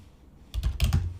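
Code being typed on a computer keyboard while writing a React import line for the Bulma CSS framework: quiet at first, then a close, brisk run of clustered key clicks.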